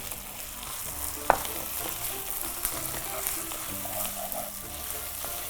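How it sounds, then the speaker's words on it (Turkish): Fine bulgur toasting in a hot pan, a steady close sizzle and crackle with a few scrapes and taps of a utensil stirring. "Güzelce bulguru kavuruyoruz."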